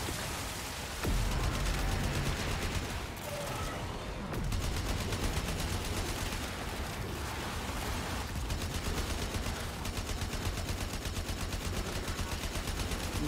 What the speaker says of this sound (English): I'm shooting at anything that looks like it might be moving.